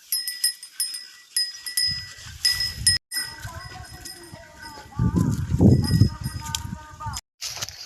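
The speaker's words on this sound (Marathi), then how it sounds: "चला मित्रांनो आता शेळ्या सोडूया." Goats on a farm among other livestock, with bleats and animal calls rising midway over a bright metallic ringing like a bell, nearby outdoors, with some human voice sounds mixed in.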